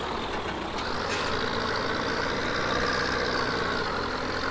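Idling engine of an aging tractor in Farming Simulator 17, a steady low rumble that holds at an even level for the whole stretch with a faint hiss above, close and continuous with no talk.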